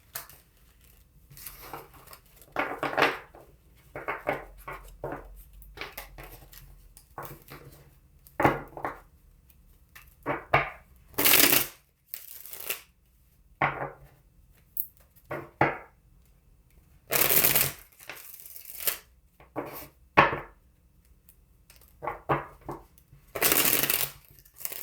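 Playing cards handled during a tarot-style reading: repeated bursts of riffling and shuffling in short clusters, with some sharper slaps and swishes, fairly close and alone with no talking.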